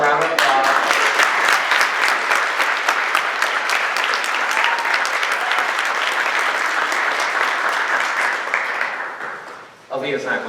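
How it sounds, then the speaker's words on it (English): A crowd at a university student government event breaks into loud, continuous applause that holds strong for about nine seconds before fading and trailing off. "Stand up for a round of applause."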